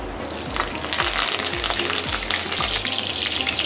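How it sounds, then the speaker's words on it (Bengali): Curry leaves crackling in hot oil as a tempering for an elephant foot yam curry, a bright close sizzle with a low rhythmic clatter of stirring beneath. "আমি যে কটা কারি পাতা নিয়েছি তার অর্ধেকটা, 2 স্টিক অল্প করে আমি ফোড়নে দিচ্ছি।"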